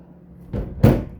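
A closet door in an RV is opened or shut: a soft thump, then a louder knock about a third of a second later, close and brief, with no talk.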